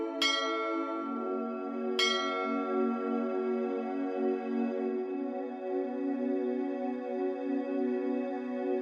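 Church bells ring on Lipsi, a Greek island dotted with small blue-domed chapels and bell towers: two clear strikes, the second about two seconds after the first, leave a long, rich ringing tone that fades slowly, with no voices.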